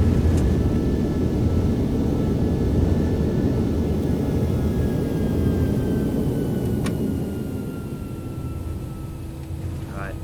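An Airbus A319 in a flight simulator lands and brakes hard, making a steady, loud engine and rolling roar with a thin whine above it. The noise eases slightly toward the end.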